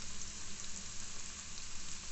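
Chopped coriander and parsley sautéing in a hot pan, a steady, close sizzle and crackle of frying herbs that holds evenly throughout with no talk.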